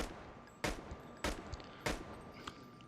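An AS VAL rifle in a shooter game fires four single, evenly spaced shots at range, each one a sharp, fairly quiet crack with a short tail.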